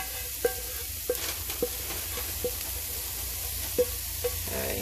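Cauliflower rice sizzling in a pan on a stovetop burner, a steady close hiss broken by several sharp scraping taps of a utensil stirring; someone speaks a single brief word.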